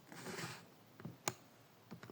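A few light keystrokes tapped on a keyboard while entering a value in a calculus problem, quiet isolated clicks with one sharper press and a couple of softer taps, close to the microphone.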